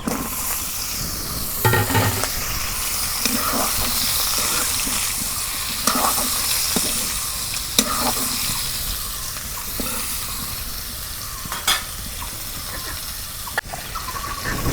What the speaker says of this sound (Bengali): এখন আমি বাগার দিয়ে দেবো